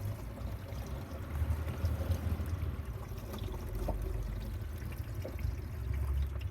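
Water poured over the window glass of a 2006 Volvo C70 cabriolet during a leak test, with bars levered down at the glass: a faint, steady trickling and splashing that runs without pause and has no talk.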